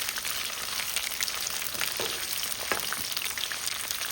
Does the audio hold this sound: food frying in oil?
yes